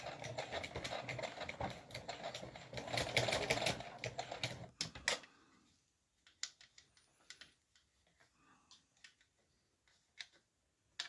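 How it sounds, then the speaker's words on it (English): A domestic sewing machine running a straight stitch on a Christmas stocking, a rapid mechanical rattling burst for about five seconds, then it stops, leaving only scattered light clicks and taps close by. "I'm just going to do a straight stitch on this bit."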